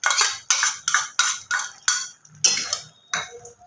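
Prawns tumble into a pan of simmering taro curry, bringing a run of about seven sharp clattering impacts at a steady half-second pace, each followed by a short scraping rattle, close and fairly loud with no talk.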